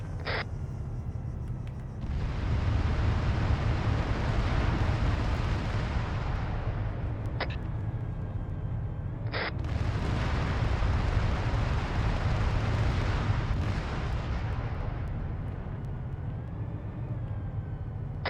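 A deployed charge going off, a sudden heavy boom swelling into a long loud roaring rumble that persists for many seconds, with a couple of short sharp clicks and no talk.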